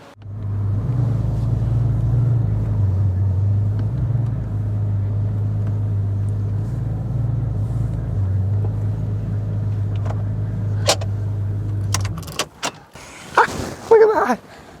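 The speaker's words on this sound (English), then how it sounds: "let me pull some cars in" A car pulls into an inflatable garage with a steady, close low engine rumble lasting about twelve seconds, then cuts off to a few scattered knocks and rustles.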